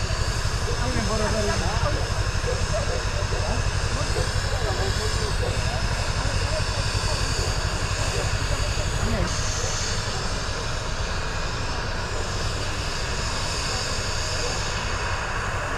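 Air ambulance helicopter of the Polish medical air rescue service landing nearby, a loud constant roar of rotor and turbine noise filling the scene, with people's voices faintly in the background.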